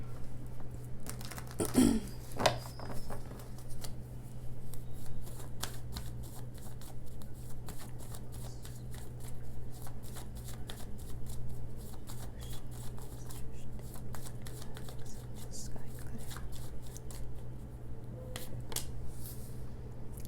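A tarot card deck shuffled by hand, giving a rapid, steady riffling patter of card clicks close by that runs for about twenty seconds, with a sharper flurry near the start.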